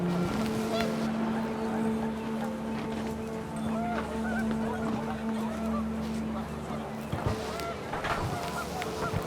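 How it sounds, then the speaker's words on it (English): Panicked geese in the video game What Remains of Edith Finch honk repeatedly over gusting wind, their calls scattered and overlapping, with a steady low tone underneath. "The wind picked up, and panicked geese appeared and quickly went."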